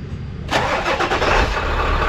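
A car engine cranks and catches, then settles into a steady running rumble close by, starting abruptly after a short quiet moment.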